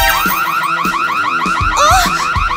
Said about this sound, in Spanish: ¿Por qué reaccionó la alarma?